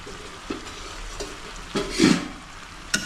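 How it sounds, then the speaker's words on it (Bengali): Meat braising in a pan for kosha, a low continuous sizzle broken by several spoon scrapes and stirring knocks, one louder burst of frying noise near the end. "আমি অলরেডি মাংস কষানোর জন্য বসিয়ে দিয়েছি"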